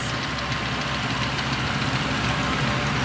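A tractor engine runs near a beach, a steady, knocking, idling drone that holds throughout at a fairly loud level, with no voices over it.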